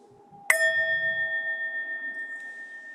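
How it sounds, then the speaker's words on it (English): A single bright, high-pitched meditation bell is struck once and rings out with a clear, shimmering tone that slowly pulses and fades. "But we'll just breathe in with the high bell,"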